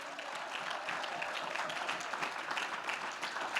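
A church congregation claps in dense, continuous applause heard from some distance, fairly quiet but sustained throughout, with no clear talk over it.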